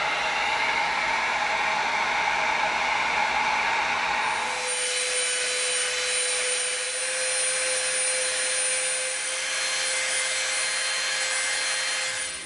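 Heat gun blowing steadily while softening EVA foam for a cosplay tomahawk prop, a loud continuous airy roar that shifts to a higher whine partway through, with no talking.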